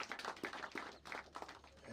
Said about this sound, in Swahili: Makofi vizuri tafadhali.